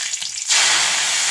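Leafy greens dropped into hot oil burst into a loud, steady sizzle and crackle that starts abruptly and carries on continuously, close up, with no one speaking.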